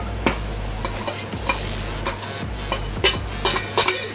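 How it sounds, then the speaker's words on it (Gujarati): Chopped ginger, green chillies and garlic sizzling in hot oil while a spoon stirs and scrapes the pan in repeated bursts, with metallic clinks over a steady low hum. "હવે આપણે આદુ, મરચાં અને લસણ નાખી દઈશું કટ કરેલા."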